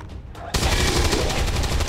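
Gunfire from the turn-based strategy game XCOM 2, a soldier's flanking shot that erupts after half a second of quiet into a dense, loud burst of rapid shots sustained to the end.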